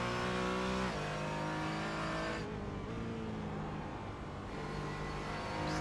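A Porsche Cayman GT4 race car in iRacing's Nürburgring 24-hour night race drones continuously at high revs, the pitch dropping sharply at gear shifts before climbing again, with no talk.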